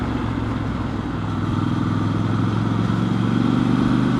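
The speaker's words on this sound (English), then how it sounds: "this thing, being an inline twin, it fires like a V-twin" Triumph Scrambler 1200 XE motorcycle with an inline-twin engine that fires with a V-twin-like beat, running steadily at close range with a low, throbbing idle and no talk over it.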